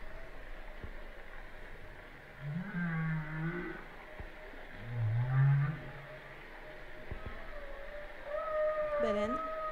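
Recorded whale vocalizations of moderate loudness: low, throaty grunting calls around the middle, with thin, high, wavering tonal whistles that rise and fall, ending on a brighter sliding call.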